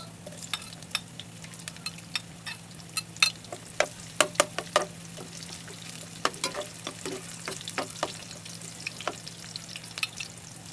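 Onion sautés in oil for adobong batikulon, a low, constant sizzle under many sharp scrapes and taps of a spatula against the pan, close and irregular.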